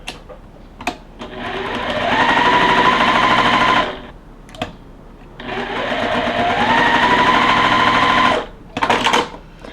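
A sewing machine stitches a pinwheel quilt block, running in two long loud bursts of steady rapid whirring, each ending with brief clicks and handling noise between the runs.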